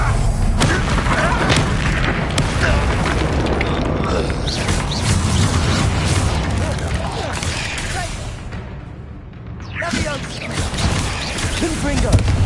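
Booming spell explosions and crashing impacts from Confringo casts in the Hogwarts Legacy video game, continuous and loud, with a character voice calling out over the battle.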